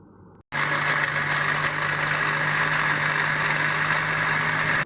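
A blender running on melon, sugar and orange juice, starting abruptly after a brief quieter moment and then holding a loud, steady motor whir with a constant hum to the end.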